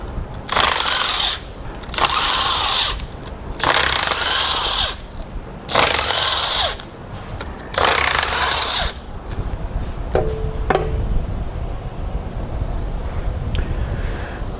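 A power tool removing the transmission pan from a 4L80E being swapped into a 1981 Trans Am, whirring loudly in five roughly one-second bursts with short pauses between, then giving way to quieter shop ambience and a few light clicks.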